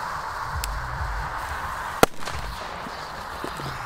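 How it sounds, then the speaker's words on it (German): A single sharp bang from a Keller D-Böller firecracker cracks out over a steady outdoor background hiss, with a faint echo trailing after it. "Jetzt noch ein paar D-Böller."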